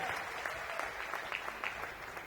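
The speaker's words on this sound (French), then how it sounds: "Applaudissez très fort pour les femmes qui sont là ce soir" Audience at a live comedy show applauding for the women present on a Mother's Day evening: steady, fairly distant clapping from a crowd, continuous throughout with a few louder bursts.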